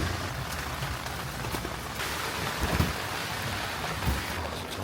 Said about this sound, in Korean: 비가 와가지고